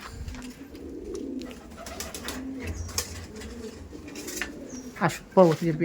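Kaldom pigeons, a fancy dove breed kept at a loft in South 24 Parganas, coo steadily in low, rolling calls, close by, with a few sharper wing or perch sounds near the end.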